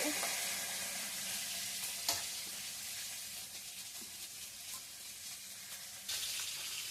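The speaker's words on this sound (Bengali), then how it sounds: "মাছটা ভাজা হচ্ছে" Fish frying in a kadai gives a steady, close sizzle with broadband crackle throughout, plus a couple of sharp utensil clicks and a louder burst near the end.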